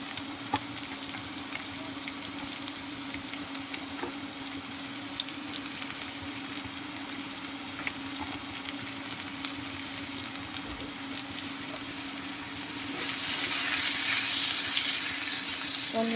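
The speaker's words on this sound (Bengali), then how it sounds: "এটাকে আমি ভালো করে কষিয়ে নেব।" Pointed gourd frying in oil in a pan, a steady close sizzle with scattered stirring clicks, swelling into a louder, harsher hiss near the end, with no voices.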